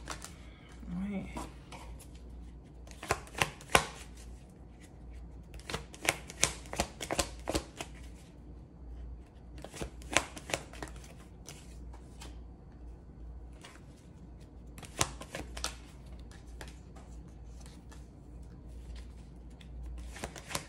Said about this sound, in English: Let me pull some cards.